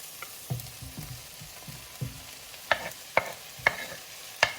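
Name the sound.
silver beet (Swiss chard) frying in butter in a pan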